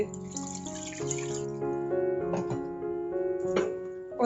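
Water splashes and trickles steadily into a pot of biryani masala, with a faint ringing tone from the vessel and a few louder pouring surges.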